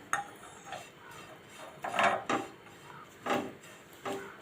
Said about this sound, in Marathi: इथे एक वाटी सुका खोबरा आहे तो मी भाजून घेते आधी